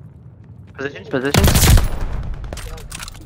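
Aircraft strafing run in the WWII shooter Call of Duty: Vanguard, heard as a loud, roaring burst of rapid gunfire lasting about half a second, then a ringing tail, with players talking before and after.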